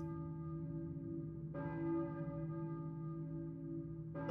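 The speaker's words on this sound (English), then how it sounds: "I hear a church bell, maybe. Who's ringing the bell?" Church bell in the video game Silent Hill, two deep, resonant strikes with long ringing decay, fairly faint and distant over a quiet ambient hum, no talking.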